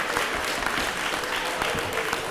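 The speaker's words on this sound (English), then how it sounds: "I think you forgot the no clapping rule." Loud, continuous applause from the audience at a county council meeting fills the room, many hands clapping at an even rate throughout with no speech on top.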